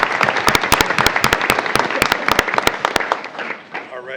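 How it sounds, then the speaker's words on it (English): Audience at a school board meeting clapping for parents, a dense burst of handclaps close by that thins out toward the end. "And a round of applause for parents who are here as well tonight."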